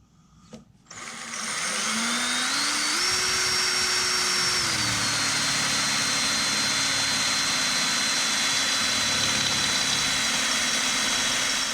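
A drill boring a pilot hole on a Snapper rear-engine lawnmower, a loud, steady motor whine rising in pitch as it spins up and holding a continuous drone, with a brief clunk at the start.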